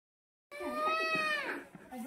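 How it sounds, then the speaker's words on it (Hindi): A goat bleats once after a moment of silence, a wavering, drawn-out cry that is close and clear, with faint background noise after it. "बकरा।"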